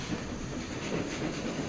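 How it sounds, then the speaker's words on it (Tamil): A train rolls along in a Roblox game with a steady, continuous rumbling hiss of rail noise that holds even throughout, with no voices. "ட்ரெயின் போயிட்டுருக்கு."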